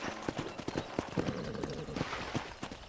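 A horse's hooves clip-clop steadily in Red Dead Redemption, a close, even trotting rhythm over an ambient game background.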